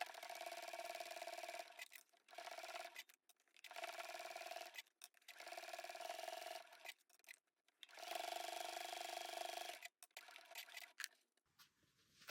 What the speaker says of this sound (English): Now that we've sewn along the sides and along the raw edge here of our binding